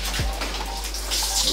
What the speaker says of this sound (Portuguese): A água vai cair no chuveiro, em cima do kimono.